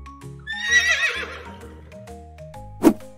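A farm horse whinnies in a loud, shaky neigh that rises and trails off, with a soft musical backing underneath and a sharp knock near the end.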